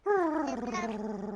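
A person imitates a dog's growl in one continuous, close, loud vocal rumble lasting over a second, with steady voiced tone and slight wavering; no words are spoken.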